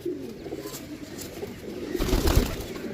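Pigeons coo softly in low, rolling phrases close by, with a brief rustle of movement near the end and no talk.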